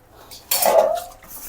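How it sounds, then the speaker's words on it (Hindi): Dishes, pots and cutlery clatter during washing-up in a home kitchen, one sharp clinking burst of metal and crockery that rings briefly before fading, heard close and alone. "अब खाना बनाने के लिए बर्तन तो धोने पड़ेंगे"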